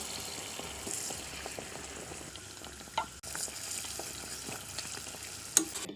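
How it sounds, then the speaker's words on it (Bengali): Fried nakshi pitha made from rice flour is lowered into bubbling jaggery syrup, giving a quiet hiss and simmer with a few soft clinks and splashes, and no voices. "ফুটন্ত রসের মধ্যে আমি নকশি পিঠাটাকে দিয়ে দেব।"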